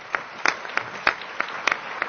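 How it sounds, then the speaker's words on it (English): Applause from an audience in a crowded European Parliament plenary: a short burst of sparse, distinct hand claps, fairly close and alone without talk. "This is very flattering when you are clapping here"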